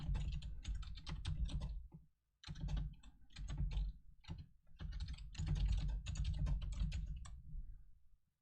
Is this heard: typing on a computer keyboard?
yes